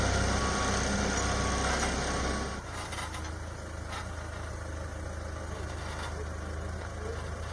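A heavy truck engine idles and rumbles at an aircraft boneyard where scrap is hauled away, loud and close at first, then dropping to a quieter steady drone after a couple of seconds.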